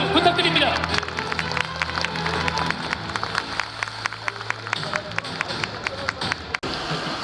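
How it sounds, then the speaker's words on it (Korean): An outdoor crowd claps for Gyeongju fire station crews and Gyeongbuk 119 special response team members at a national anti-terror drill in Korea. The applause is dense and steady, mixed with scattered sharp claps, and it fades near the end. "경주 소방서 및 경북 119 특수대응단 대원분들께 힘찬 박수 부탁드립니다"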